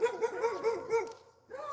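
Several dogs bark in a quick, rhythmic run of close, sharp yips and barks during a garden visit in North Mississippi, with a short pause before one more bark.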